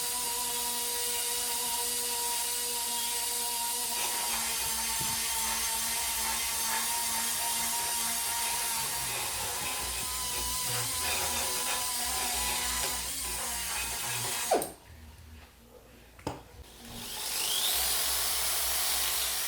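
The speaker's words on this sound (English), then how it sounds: "you wrap emery tape around it and use the emery tape" A Ducati 4V cylinder head port being lapped with emery tape wrapped on a slotted round-bar lapping stick, giving a continuous close abrasive rubbing and whirring that runs steadily, then cuts out abruptly near the end.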